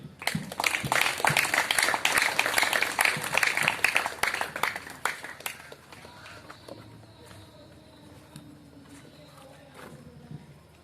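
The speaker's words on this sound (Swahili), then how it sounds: "tutampokea kordo wetu kwa makofi na vigelegele" A youth general assembly crowd claps loudly and steadily to welcome its coordinator, the applause thinning out after about six seconds into a quieter room murmur; no distinct ululation stands out.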